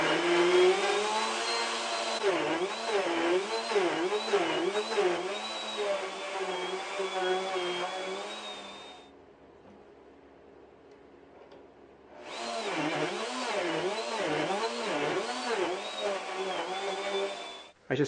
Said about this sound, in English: I'm going to cut the slots on my slot mortiser